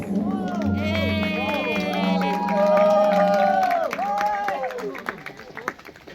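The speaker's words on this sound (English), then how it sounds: "I guess everybody can together give a huge round of applause." Wedding guests at Prakash and Jessica's marriage give a round of applause, with clapping and cheering blended under loud, close voices and chatter that keep going throughout, tapering toward the end.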